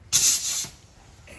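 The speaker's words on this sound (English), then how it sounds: "Air wrench is coming up." Pneumatic air wrench on an FMTV truck rear differential job releasing a short, sharp burst of hissing air, close and loud for about half a second, then fading into quiet workshop background.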